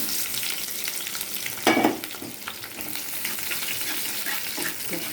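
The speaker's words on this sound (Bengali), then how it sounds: "এই যে কালো জিরে দিয়ে এই পেঁয়াজ আর কাঁচা লঙ্কা ভালো করে ভেজে নেব।" Sliced onion, green chilli and nigella seeds fry in oil with a bright, crackling sizzle. A brief louder burst of spattering comes early on, then the frying settles back to an even hiss.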